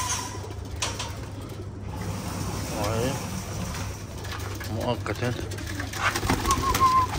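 Homing pigeons coo softly in a loft among newly arrived birds, low murmuring calls mixed with someone talking nearby over steady background hum.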